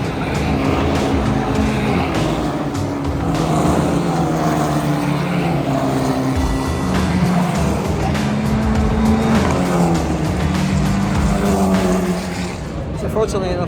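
F1 Academy race cars passing on track near the turn 8 bridge at a Grand Prix weekend, a continuous loud roar of engines and crowd noise with voices talking over it throughout.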